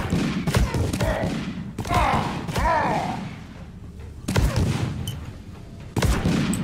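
Explosions in the Deep Rock Galactic video game: several abrupt booming thuds in quick bursts, mixed with game noise and speech.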